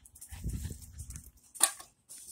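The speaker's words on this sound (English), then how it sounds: "This is my dog" A dog close by gives a low, rumbling sound, then one sharp, brief burst, with quiet in between.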